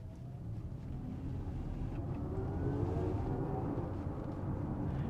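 Synthetic engine tone in the Futuristic mode of a 2023 Genesis GV70 Electrified SUV, a steady whirring drone with faint rising tonal sweeps that builds slightly in the middle and holds at moderate level for about five seconds, with no talking.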